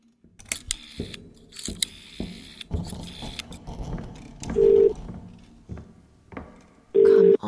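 In The Cat Lady video game, a phone rings in two short, loud bursts of steady buzzing tone, amid scattered mechanical clicks, rattles and jangling handling sounds, with no talking.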